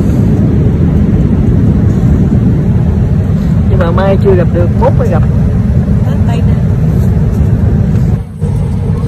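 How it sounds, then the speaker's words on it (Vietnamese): Steady, loud airliner cabin drone in flight, about two hours into a long-haul trip, rumbling throughout while someone talks over it in Vietnamese. "Hiện tại thì máy bay vừa bay được khoảng 2 tiếng"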